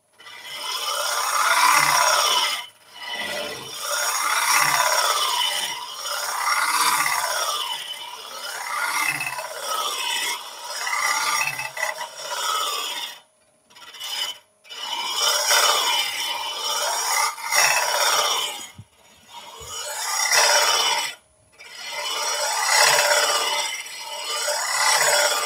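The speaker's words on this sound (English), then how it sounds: "I'm just going to stop the lathe just to get rid of some of the shavings" A lathe hollowing tool cuts inside a dry wooden vessel, worked by feel, giving loud, rasping scrapes in repeated rising-and-falling strokes, broken by short pauses between passes.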